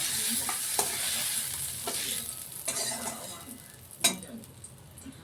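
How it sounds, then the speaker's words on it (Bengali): Onion, tomato and chilli sizzle steadily in a hot pan while a spatula stirs and scrapes, with occasional metallic clinks against the pan's side. "এখানে আমাদের পেঁয়াজ, টমেটো, লঙ্কা ঠিক লাল করে ভাজা হয়ে গেল"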